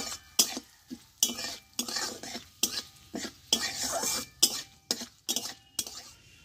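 Nigella, cumin seeds and asafoetida tempering in a pan, with sharp, close scrapes and clinks of a utensil stirring in repeated bursts about every half second over a soft background hiss.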